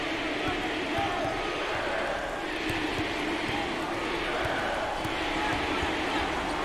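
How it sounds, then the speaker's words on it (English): Crowd noise in a basketball arena during a 2021 NCAA tournament first-round game, a steady broad roar of cheering fans throughout with a few scattered thumps underneath. "there's all kinds of people standing and cheering and going wacky"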